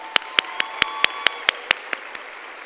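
Ten sharp, evenly spaced claps ring out at a high school commencement, close and distinct in a steady rhythm, the final two softer, over faint murmuring applause from the graduation crowd.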